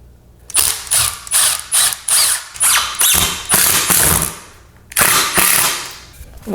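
A power driver drives screws into a wooden brace supporting a kitchen sink, a rapid series of loud, clattering ratcheting bursts in quick succession, then a pause and one final longer burst.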